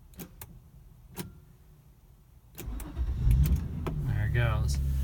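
A 2002 Acura 3.5RL in a covered parking structure: quiet clicks and a power-window whir, then the engine cranks and catches into a steady rumbling idle, close by, with someone talking over it.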